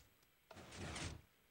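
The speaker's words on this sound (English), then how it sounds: "just in this little 4x4 area, the pistons do open up." Pistons opening in a video game contraption, heard as a single short mechanical whoosh-slide that swells and fades within about a second, faint and alone.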